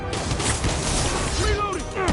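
Video game gunfire in a PS4 shooter, a dense burst of rapid shots and impacts over a couple of seconds, loud and continuous with crashing debris mixed in.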